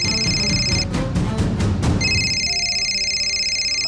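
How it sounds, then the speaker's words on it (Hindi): A telephone rings loudly with bright electronic trills, breaking off briefly in the middle before ringing again, nobody speaking. "मामी जी का फोन।"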